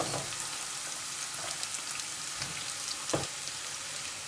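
Carrots fry in a pan with a steady, dense sizzle and a few soft stirring bumps, the hiss remaining even and close throughout, with no one talking.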